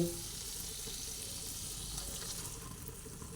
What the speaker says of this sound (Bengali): ভালোভাবে সব মশলা মিশিয়ে ভেজে নিচ্ছি